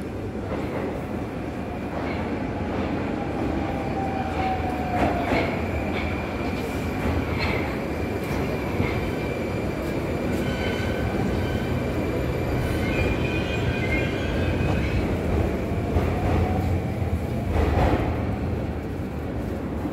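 A train arriving rumbles steadily on the rails for about twenty seconds, with rising and falling wheel squeals and a continuous heavy roar throughout.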